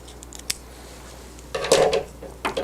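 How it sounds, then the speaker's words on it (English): Scissors snip through a strip of thermal tape on a heat press workbench, a short quiet cut followed by a louder, closer crisp snipping. "then I'll trim off another piece of tape"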